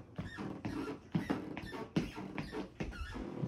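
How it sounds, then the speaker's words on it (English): Faint, repeated creaking squeaks of a wooden bedroom floor under slow footsteps, coming in a steady rhythm in a quiet room. "You got a floor squeaking"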